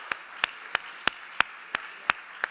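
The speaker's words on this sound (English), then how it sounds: "Let's give them one more round of applause" Crisp, evenly spaced hand claps, about eight in a slow steady rhythm, ring out at a startup pitch stage event as applause for a pitch team, with no talking over them.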